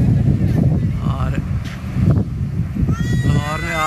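Wind gusting across a rooftop in Lahore during the monsoon season, a steady rushing buffet against the microphone with someone talking over it.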